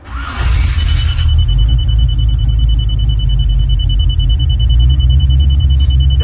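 Dakota digital gauge warning for low oil pressure on a running engine fitted with Sniper EFI: a steady high-pitched electronic tone sounds continuously over a loud engine rumble and cooling-fan roar, with no talking.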